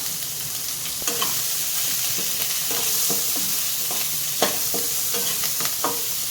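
Steady sizzling of onions frying in a pan, with intermittent scraping and stirring knocks from a utensil, close and continuous.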